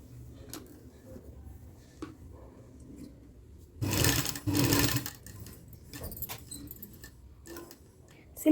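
A sewing machine stitches around a cloth neckline in two short whirring bursts near the middle, surrounded by quiet handling of fabric and small taps and clicks.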